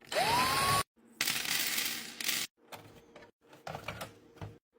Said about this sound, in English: Let's open 1 million screws and see.